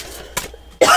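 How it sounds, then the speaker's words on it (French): A person gives two dry, hacking coughs close by: a short one first, then a louder, harsher one, with a quiet room between them. "j'ai une toux sèche qui dure"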